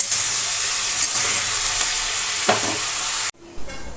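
A loud, steady sizzle of fish frying in a pan with turmeric and salt, with a few stirring scrapes. The hiss cuts off abruptly near the end, leaving a faint quiet tail.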